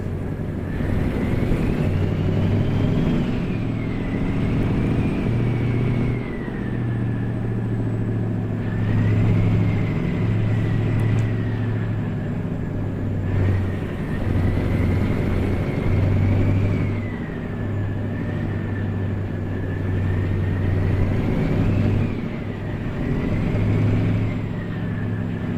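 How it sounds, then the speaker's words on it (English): A truck engine in American Truck Simulator drones steadily for a long stretch, its pitch rising and falling gently as it revs, loud and close with no talking. "Sometimes it's good to let the engine noise speak for itself."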